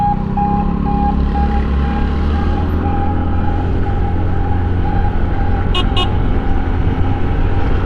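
A Yamaha Fazzio scooter's horn gives two quick short beeps during a commuting ride, cutting briefly through steady loud engine and traffic rumble.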